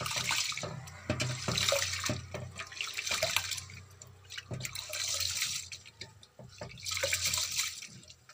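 Insect-infested rice being washed by hand in water, with repeated bursts of splashing and swishing as the grains are squeezed and rinsed, close by with short pauses.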